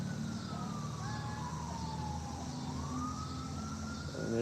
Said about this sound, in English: And there's two sirens going off now.